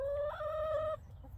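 A single chicken gives one sustained, tonal cluck-call close by, ending abruptly partway through, over a low rumbling background.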